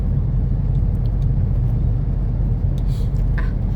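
A car drives along a road near the Nam Nao mountains and makes a U-turn, its steady engine rumble and road noise close and continuous with a faint rise, no talk over it.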